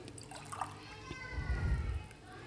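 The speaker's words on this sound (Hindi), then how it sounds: "इसके अंदर बीफ के अंदर पानी हम शामिल करेंगे तकरीबन 6 ग्लास" Water pours into a pot of beef for pulao, a low gushing splash of about a second near the middle, while a person keeps talking.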